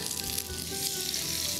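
Chopped carrot with cumin sizzles and fries in a hot pan, a dense steady hiss that is close and continuous, with no talking.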